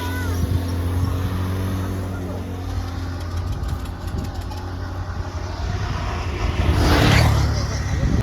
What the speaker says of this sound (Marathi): गाड्या खूप फास्ट आहेत